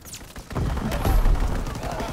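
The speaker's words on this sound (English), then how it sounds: "Enemy strafing run, inbound." An enemy aircraft strafes the map in a Call of Duty: WWII multiplayer match, with dense, rumbling bursts of gunfire and booms rolling on continuously and loudly for a couple of seconds, under a voice.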